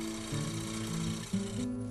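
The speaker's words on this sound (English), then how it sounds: "Here I'm finishing the sanding." Steady whirring hum of a spinning lathe with sandpaper rubbing against a wooden bowl, continuous and close, with a slight shift in pitch partway through.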